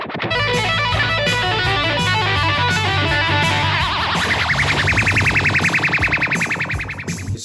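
A guitar run through a Boss ME80 multi-effects unit produces a ray gun sound effect, a loud, dense, distorted tone with rapidly warbling, pulsing pitch that sweeps and shifts midway before continuing to oscillate, with no talking.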